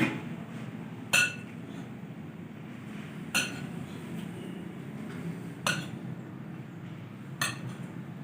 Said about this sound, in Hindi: सारी चीजें हमने डाल दी, अब अच्छी तरह से मिक्स कर लेंगे